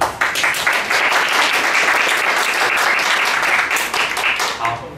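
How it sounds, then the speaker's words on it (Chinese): A full audience at an Open Source beginners' event gives a burst of loud, dense applause lasting about five seconds before tapering off at the end. "给自己一个热烈的掌声哦，来。"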